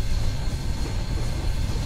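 A steam locomotive in Train Simulator 2019 on a Cascadian route runs with a continuous loud, heavy rumble and a steady low roar and no pauses.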